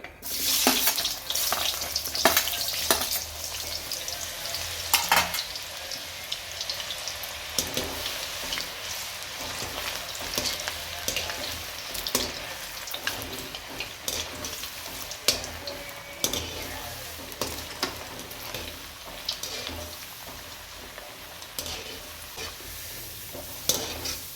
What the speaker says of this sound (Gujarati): હવે આપણે બટેકા તળી લઈએ.